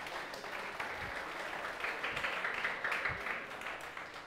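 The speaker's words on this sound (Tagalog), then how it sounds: "the best po uling palakpak para kay Jesus" A church congregation claps together in a steady, moderately loud round of applause lasting a few seconds, heard from within the room.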